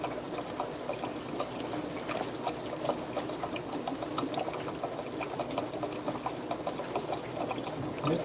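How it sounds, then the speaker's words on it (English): Water poured out of a Moina Daphnia culture container into a sink, a steady continuous splashing and trickling stream that runs close by for the full stretch without speech. "In this case, I'm just going to pour everything out because"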